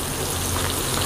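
Tempeh sizzling in hot oil in a pan over a traditional wood fire, a steady dense crackling hiss that fills the clip at close range with no voices.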